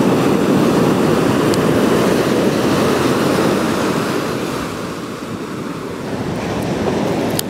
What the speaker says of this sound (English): The sounds of the sea, the Mediterranean crashing on the shores.